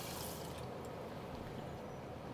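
Water is poured for cooking, about 1.75 cups measured out in a home kitchen, a steady soft pouring rush with no breaks, faint and close, heard alone.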